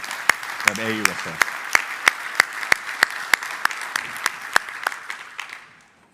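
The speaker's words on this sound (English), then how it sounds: "Round of applause for the President and CEO of AUSA" Audience applause for the President and CEO of AUSA at the Land Forces Pacific conference, heard as sparse, sharp individual claps in a steady rhythm that thin out and fade near the end, with a brief voice early on.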